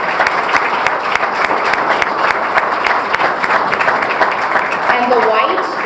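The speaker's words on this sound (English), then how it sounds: "So give yourself a round of applause" Loud, sustained applause from an audience at a Dominican Day Parade 2019 scholarship awards ceremony, honoring the scholarship recipients. Dense clapping fills the whole stretch with crowd voices mixed in.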